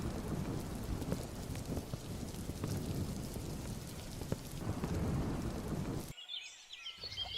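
Rain falls steadily outdoors with a low rumble of thunder beneath it, a continuous hiss that cuts off abruptly near the end.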